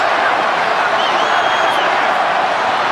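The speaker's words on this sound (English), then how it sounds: "Listen to their fans in the crowd yelling All Blacks." Stadium crowd at a 2012 New Zealand versus Australia rugby match roars in a loud, continuous, dense wash of cheering and yelling that holds steady throughout.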